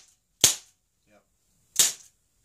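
An Umarex Beretta PX4 Storm CO2 pistol fires pellets in two sharp, loud shots about 1.3 seconds apart, with a faint tick between them and quiet surroundings.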